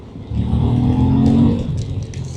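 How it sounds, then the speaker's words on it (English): A QJ Motor SRT 900 SX motorcycle engine on a test ride rises in a smooth, steady rev, then eases off slightly, loud and close with no talking. "The engine pulls really nice and smooth."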